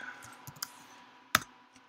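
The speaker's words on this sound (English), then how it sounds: "we'll just type in test" A computer keyboard being typed on while setting up fox-hunting software on a Raspberry Pi, a few sparse, soft clicks followed by one sharper keystroke, close and quiet against a faint hum.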